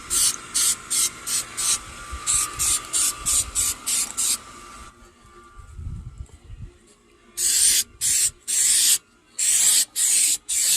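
A small spray paint can hissing in rapid bursts, then pausing and resuming in longer, louder sprays, while painting a Honda Civic engine bay, including the coilovers; close and loud with no speech.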